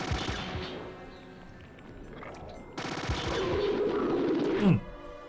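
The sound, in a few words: shots fired in Battle Isle video game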